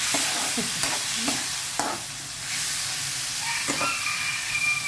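Chicken liver marinated in calamansi, dried fish, seasoning and pepper powder is stirred in a hot pan: scraping utensil strokes over a soft frying sizzle, a few distinct scrapes close by.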